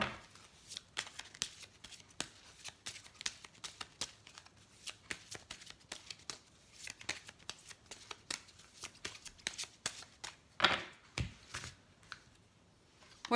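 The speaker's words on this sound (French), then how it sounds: "Alors je vais tirer une petite carte des anges de l'amour." Angel oracle cards being shuffled and drawn by hand, with a close, quiet series of rapid riffling flutters and soft slaps, broken by short pauses and a few sharper card snaps near the end.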